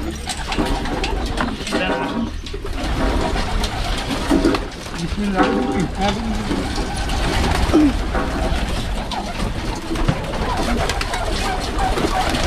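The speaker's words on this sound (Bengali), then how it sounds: "আমাদের এখানে কবুতর আছে" Domestic pigeons kept at a home coo in low, repeated throaty calls close by, while people talk over them throughout.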